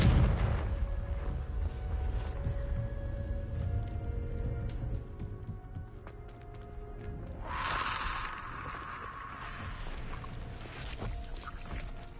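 A Confringo blasting spell explodes in the wizarding game Hogwarts Legacy, with a bright hissing burst rising over a steady backdrop of rumbling booms and low battle noise.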